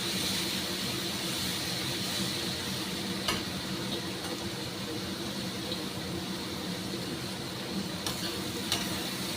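Mung dal and cabbage fry in a pan with a steady, even sizzle throughout, broken by a few soft clicks of a stirring utensil, close and with no voices.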